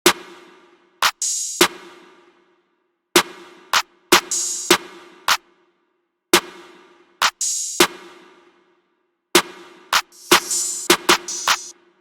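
A dark synth-style trap beat plays with a clap and a snare in swapped positions plus extra percussion. Sharp, bright hits fall in an uneven pattern over a sustained low tone, with short pauses between phrases.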